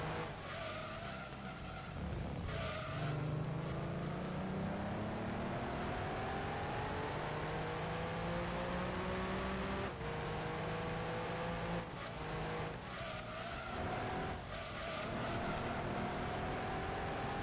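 Race car engine in Gran Turismo 1 roars loud and steady, its pitch climbing through each gear with brief drops at shifts and tire squeal mixed in.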